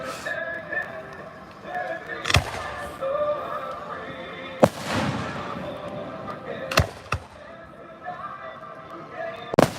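Fireworks bursting on the 3rd of July, sharp loud booms at irregular intervals over a steady backdrop of distant crackle and crowd noise, with people talking between the blasts.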